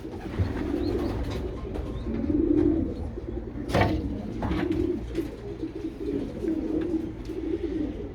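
Pigeons coo in a breeding loft during the breeding season, with soft, low, rolling calls repeating throughout, some overlapping, plus a brief flutter or knock partway through.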